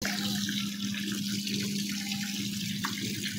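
Water pours steadily from a tap into a small children's swimming pool, a constant close hiss and rush with a low hum underneath and no voices.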